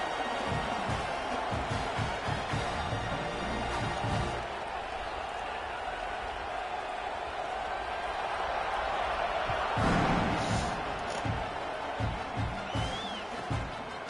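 A stadium crowd in a football video game roars in a steady, broad wash of cheering at kickoff, with thuds and rhythmic clapping beneath and a commentator talking over it.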